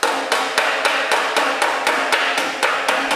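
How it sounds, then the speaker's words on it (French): A wooden mallet strikes a car wing panel held against a metal dolly in a body shop, a steady series of about ten sharp, loud knocks at a regular pace. "on va utiliser un maillet en bois et donc un tas"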